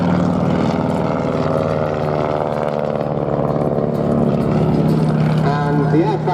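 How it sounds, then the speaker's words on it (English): A WW1 Sopwith triplane flies past at the Duxford airshow, its loud, steady propeller and engine drone sustained throughout and swelling slightly near the end, with an announcer talking over it. "braking from right to left in just a moment's time is the Sopwith triplane flown by Gordon Bradner"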